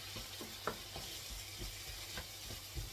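Tomato, peppers and choricero pepper sautéing in a pan for marmitako, a steady loud sizzle with a few scraping stirs of a utensil over it.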